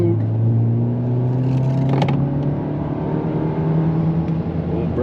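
Volkswagen Mk8 GTI engine held at about 3,000 RPM under load, a steady loud drone with harmonic engine tones that shift slightly, no talk over it.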